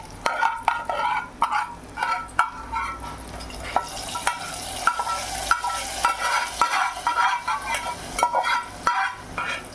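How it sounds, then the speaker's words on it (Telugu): Hot oil sizzles and crackles steadily while tempering spices pop for tomato dal, with sharp bursts and occasional scraping stirs throughout. "ఇదిగోండి పోపు వేస్తున్నా"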